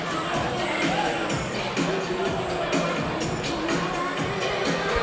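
A boxing crowd in Melrose stands and waits for the scorecards, a loud sustained hubbub of many voices, murmurs and scattered shouts filling the arena continuously.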